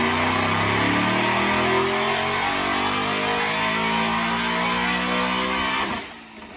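Supercharged 2015 Mustang GT with a Roush Phase 2 supercharger and stainless headers, pulling hard on a dyno. Loud, close engine roar climbs steadily in pitch across the pull, then cuts off sharply near the end.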